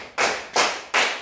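A classroom clapping game: three sharp, loud group claps in even rhythm, close and crisp with short decays, no talking.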